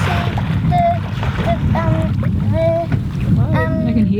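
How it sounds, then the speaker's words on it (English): A sailboat motors at sea in the Golfe de Lion with its engine running. A steady low drone mixes with wind and water noise, and voices talk over it. "I can hear the boat and the engine."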